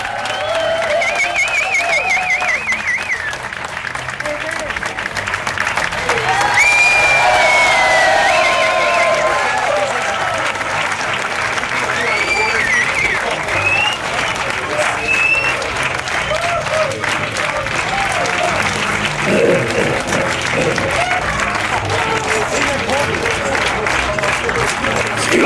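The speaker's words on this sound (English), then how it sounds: "Please give a warm round of applause." Sustained audience applause welcomes the band at a 2005 Swedish event, dense clapping from a large crowd with scattered cheers and whistles, steady and loud for the whole stretch, with voices faintly mixed in.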